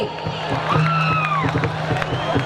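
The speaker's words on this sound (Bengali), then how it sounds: "তার জন্য জোরে একটা হাততালি" Crowd noise at an outdoor concert in Naogaon, with cheering and whoops rising over a sustained hum, while a voice carries through a loudspeaker over the audience.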